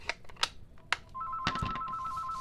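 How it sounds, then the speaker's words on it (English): Telephone ringing in a card-stamping craft room, a steady pulsing electronic tone that starts partway through after some light handling clicks and rustles, fairly faint overall. "I'm going to answer my phone"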